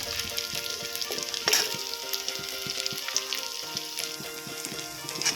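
Homemade paneer frying in oil in a pan, a close, continuous sizzle with busy crackling pops and sharper spits scattered across it, alone without talk.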